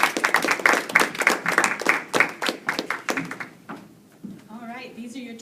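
An audience applauds college vice presidential debate candidates with dense, lively clapping for several seconds that then thins out, followed by a voice speaking.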